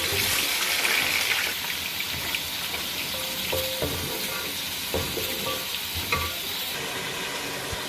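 Onions frying in a pan until golden, a loud continuous sizzle with occasional stirring clicks and scrapes of a spoon against the pan.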